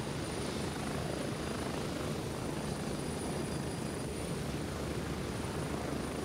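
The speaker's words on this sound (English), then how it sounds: "currently you can't shoot out of the helicopter." Helicopter rotor and engine roar from the video game Gray Zone Warfare, a steady, loud, unbroken drone throughout with no talk.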